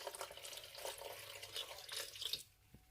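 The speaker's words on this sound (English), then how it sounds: "And I'm going to add a little bit of water." Water splashes in a steady stream into salsa ingredients such as tomatoes, garlic and salt, quiet and close, then cuts off with a few faint drips.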